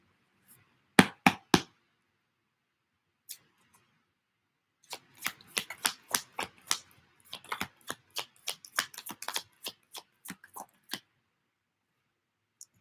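Tarot cards being shuffled by hand, with a few crisp riffles early, then a long run of quick irregular flicks and taps, soft and close in a quiet room with no talking.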